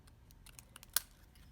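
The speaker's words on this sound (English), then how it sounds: "and then you're going to use your scissors" Scissors snip off the ends of paper while making a mini composition book, a handful of crisp, close clicks and snips with one louder cut in the middle.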